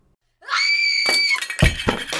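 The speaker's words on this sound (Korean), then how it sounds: "림림이의 비명소리가 들렸다" A woman's long, piercing scream rings out alone in a horror story, then gives way to a few sharp crashing and banging noises.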